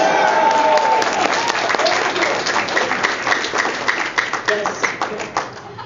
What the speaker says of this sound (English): I'm going to have to keep clapping here.